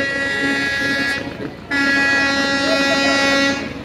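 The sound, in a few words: passenger launch departing from the ghat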